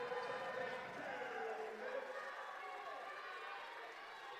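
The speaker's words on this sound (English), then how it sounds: "Cougar crowd getting into it now" A home crowd cheering at a Cougars college men's basketball game, a broad roar that stays steady then slowly fades, under a commentator's voice.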